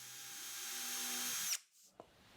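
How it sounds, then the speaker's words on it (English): A power drill whines at high speed as it pre-drills and countersinks screw holes in 3/4-inch birch plywood, rising slightly in pitch before stopping sharply, followed by a small click. "I'll pre-drill and countersink evenly spaced holes for the screws"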